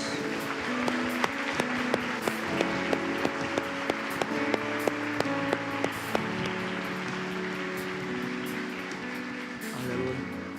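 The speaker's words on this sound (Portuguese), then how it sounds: "Dê um forte aplauso a Jesus." A church congregation gives a strong round of applause, dense continuous clapping with sharp hand taps sustained for about ten seconds under a faint musical tone.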